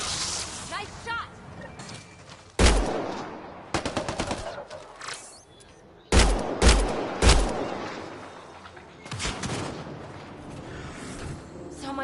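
Heavy gunfire in the sci-fi shooter Mass Effect: Andromeda, with several loud bursts and single shots spaced across the scene and a voice talking between them.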